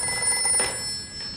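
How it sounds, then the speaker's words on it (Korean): A telephone rings in a nun's room during a film scene, a steady electronic trill heard alone at moderate loudness for just over a second. "갑자기 주드 수녀의 방에 걸려오는 전화"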